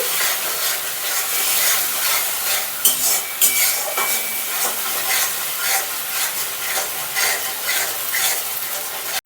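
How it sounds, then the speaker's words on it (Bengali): A spice paste with salt, turmeric, cumin and dried chili powder fries in a pan for khichuri, giving a steady hissing sizzle broken by repeated scraping and stirring strokes of a spoon. "মশলা পেস্টে দেবো অল্প পরিমাণ লবণ হলুদ একটু জিরে গুঁড়ো একটু শুকনো লঙ্কার গুঁড়ো ভালো করে কষিয়ে নিচ্ছি"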